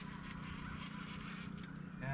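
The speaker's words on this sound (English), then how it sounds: "And a bunch of Canadian geese." Canada geese honk from somewhere off near a river while fishing, their calls blending into steady low background noise and rising into a louder burst at the end.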